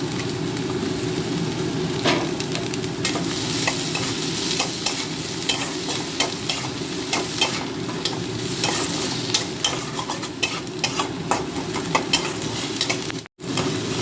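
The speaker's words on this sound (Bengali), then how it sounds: "আলুটা একটু কড়াইতে মেরে নিই" Potato filling for paratha is stir-fried in a wok, giving a continuous loud sizzle with scraping stirring strokes throughout, briefly cutting out near the end.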